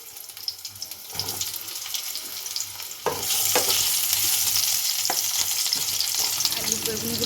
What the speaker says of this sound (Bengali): মাছ ভাজার তেলে আমি এরপর আলুগুলো ভেজে নেব